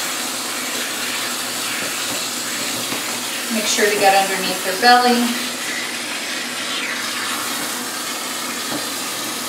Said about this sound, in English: just continue to keep rinsing until the water is running clear